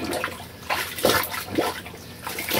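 Clean laundry is pushed into a rinse bucket of water by hand, giving short close-up sloshing and splashing bursts about every half second, with no talking.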